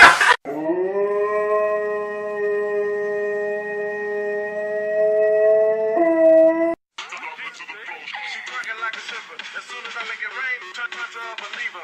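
A dog that refuses a bath howls in one long, loud, steady note for several seconds, then the howl gives way to fast, chattering voices and sound effects.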